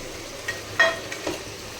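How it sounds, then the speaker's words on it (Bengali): Fried eggs and water going into an egg curry pan of cooked potatoes, a few brief splashes and sizzles close by, the loudest near the middle. "এরপর এর মধ্যে দিয়ে দেব ভেজে রাখা ডিমগুলো আর দিয়ে দেব জল।"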